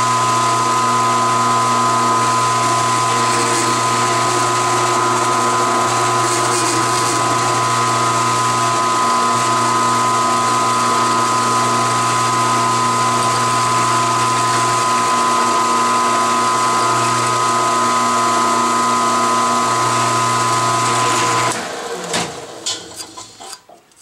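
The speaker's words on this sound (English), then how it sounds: "let's deburr it with this. It's just a countersink." A countersink bit deburrs metal on a CNC lathe's X-axis chip guard, producing a steady, loud whirring machine drone with a grinding edge for about twenty seconds before it winds down and stops.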